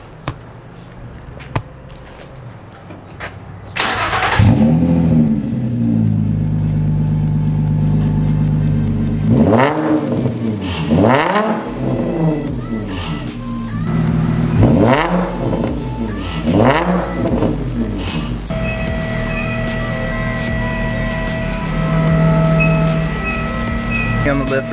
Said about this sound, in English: So he's gonna start it up and do a couple revs for me.